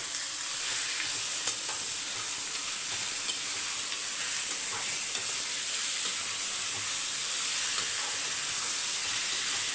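Prawn pepper fry (prawn pepper thokku) being stirred in a pan, with a steady, loud sizzle and scraping stir sounds running continuously throughout without any talking.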